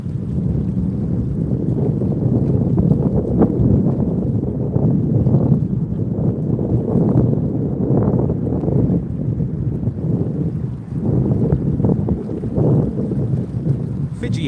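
Wind gusts buffet an outdoor microphone at Sydney Airport, producing a steady low rumbling roar that swells and eases in waves while a person talks over it.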